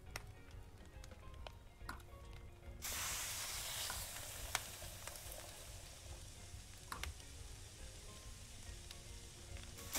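Food cooks in the Kebab Chefs restaurant simulator video game, a faint, even sizzle that starts abruptly after a quiet stretch and continues under scattered soft clicks.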